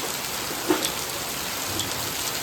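Heavy downpour falls on a village in Botad after sowing, a dense, constant hiss of rain with a few louder drop impacts, steady throughout and unaccompanied by voices.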